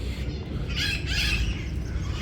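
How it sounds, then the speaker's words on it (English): Harsh parrot squawks ring out from trees above a plaza in Sucre, Bolivia, a few overlapping calls over steady outdoor background noise. "you can hear the loros, the parrots up in the trees here as well."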